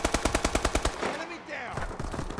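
A Bal-27 rifle in Call of Duty: Advanced Warfare fires a rapid burst of about ten evenly spaced shots, followed by softer game sounds and faint movement noise.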